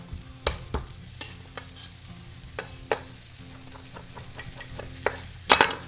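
Rosemary frying in a pan for pheasant, a bright sizzle punctuated by repeated sharp scrapes and taps of stirring, irregular and close, with no voices.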